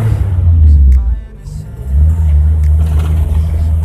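A car fitted with a custom distributor cap pulls away in first gear on a bumpy village road, its engine rumbling loud and close, easing briefly before building again.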